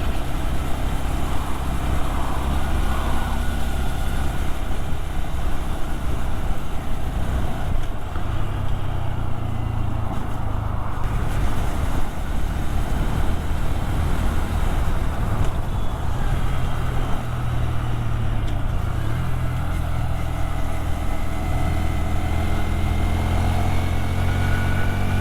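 A small Honda MSX125 motorcycle being ridden, its engine a steady, continuous drone with wind rush throughout, close and moderately loud with no talk.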